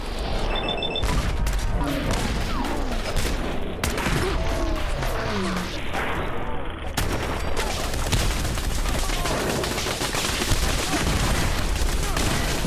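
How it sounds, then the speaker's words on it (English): Dense, continuous gunfire and bursts from turrets fill a chaotic Fallout 4 firefight at Bunker Hill, with rapid overlapping shots and booms running loud throughout. "Why are the turrets shooting at me?"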